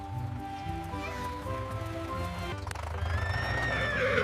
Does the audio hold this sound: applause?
no